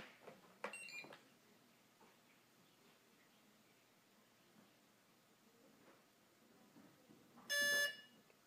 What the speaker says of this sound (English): Hear one beep